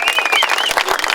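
Applause for a speaker at a union rally of Amazon workers outdoors in San Francisco, a dense steady patter of clapping from a crowd, moderately loud and continuous with a faint whistle drifting above it.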